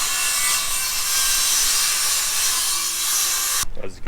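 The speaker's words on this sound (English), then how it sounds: "Dad's sawing up the last chunk of plywood for the gap back there on the troll pit" Plywood is sawn on a fishing boat restoration to fill a gap in the troll pit, a continuous loud hissing rasp of blade on wood that carries on steadily and then stops abruptly near the end.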